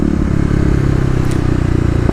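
A Kawasaki KLX250 dirt bike revving hard in second gear as it lifts into a wheelie, a loud, close, throbbing engine drone with rapid pulsing that stays even throughout, no talking.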